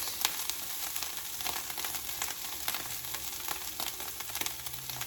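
Mushrooms and vegetables searing in a hot pan for an egg and veggie scramble, giving a continuous sizzle dotted with sharp pops and occasional stirring scrapes, close and steady throughout.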